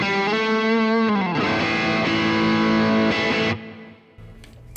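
Electric guitar played through the BOSS GX-100 Supreme amp model, a mid-forward tone with sustained chords and bending notes that ring loud and alone, then cut off and fade into quiet room noise near the end.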